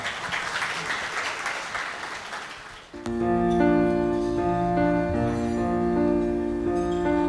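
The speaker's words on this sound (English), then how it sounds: "a round of applause for Albert O." Dense audience applause at a charity gala dinner for about three seconds, then it stops abruptly as sustained piano-like music begins and continues steadily.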